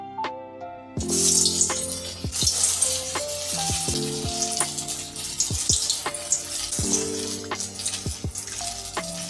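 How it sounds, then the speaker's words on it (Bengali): Cauliflower chops dropped into hot mustard oil in a kadai, a quiet start that bursts into loud, continuous frying sizzle with crackling pops and clatter as pieces go in one by one. "তেলটা ভালোভাবে গরম হয়ে গেছে এবারে মিডিয়াম আছে আমি ভেজে নেব একটা করে দিয়ে দেবো"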